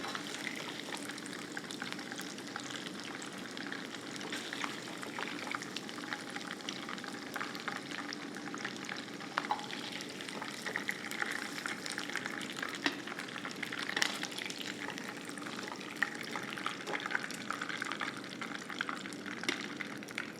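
Chicken pieces fry in hot oil with a soft, continuous bubbling sizzle, steady and fairly quiet from start to finish with a few small pops and no talking.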